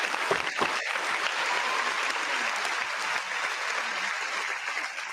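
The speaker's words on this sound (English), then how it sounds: "We're gonna get a little applause for that one." An audience bursts into applause, a dense, steady wash of many hands clapping at once, holding at an even loudness before tapering slightly at the end.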